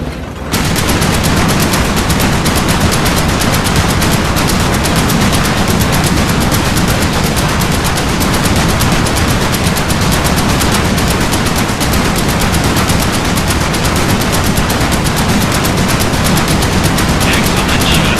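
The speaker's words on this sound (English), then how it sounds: "Lieutenant, get on the flak cannon." Rapid, relentless fire from a World War II flak cannon in a video game roars loud and continuous for the whole stretch, a dense hammering barrage without pause.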